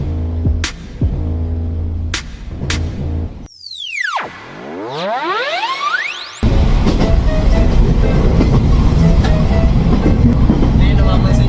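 A train rumbles along the rails with rhythmic clatter, a rising and falling whine and squeal in the middle, then a loud, dense roar of wheels on track, with voices heard early on.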